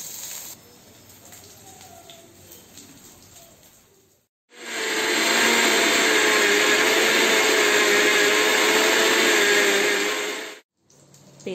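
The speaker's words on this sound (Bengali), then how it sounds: "এখন এটাকে মিক্সিতে পেস্ট করে নেব" A kitchen mixer grinder blends taro, garlic and green chili with a little water into paste, a loud steady whirring drone that starts abruptly after a quieter stretch, runs for about six seconds, then cuts off.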